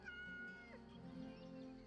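A cat in the video game Yes, Your Grace meows while being petted, a clear, close, drawn-out meow over a quiet game music bed.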